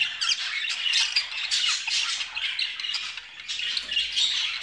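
Budgerigars in an aviary chirping and squawking in a dense, continuous chorus of shrill high chatter, close and lively throughout.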